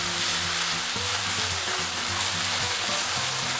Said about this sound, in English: Stir from time to time for 3 minutes